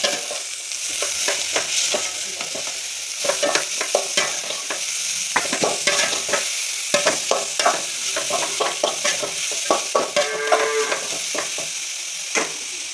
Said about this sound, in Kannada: ಸೊ ಈ ಬೀಟ್ರೋಟ್ನ ಹಾಕೋಣ ಬನ್ನಿ ಇದನ್ನು ಮಿಕ್ಸ್ ಮಾಡಬೇಕು